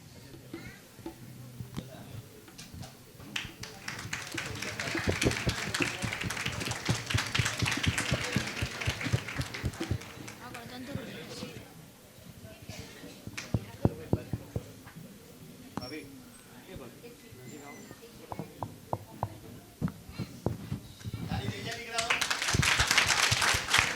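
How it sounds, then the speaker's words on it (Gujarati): Audience applause at a school music-hall inauguration event, a dense wash of clapping that swells, fades and returns strongly near the end, with a voice talking over it. "ફરીથી તાળી પાડીશું"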